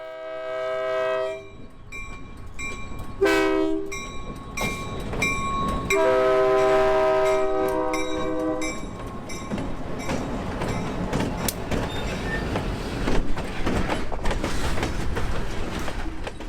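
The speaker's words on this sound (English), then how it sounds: "And one last shot as the train approached the transloading facility." A freight train approaching a transloading facility in central Florida, with long loud horn blasts, then a steady rumbling rail roll and clanking of cars passing close by, no talk.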